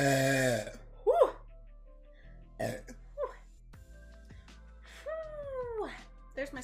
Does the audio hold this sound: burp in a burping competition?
yes